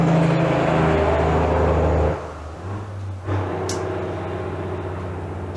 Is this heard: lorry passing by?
yes